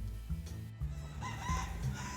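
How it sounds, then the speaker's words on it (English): A wild rooster in Key West crows faintly in the distance, a short rising call over a constant low rumble of background noise. "There are wild chickens everywhere."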